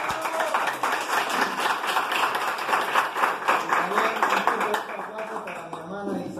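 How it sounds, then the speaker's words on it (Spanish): An audience gives rhythmic, fairly close applause at a talk where a speaker has just finished, with clapping continuing steadily and voices mixed in as it tapers slightly toward the end. "Un fuerte aplauso, por favor."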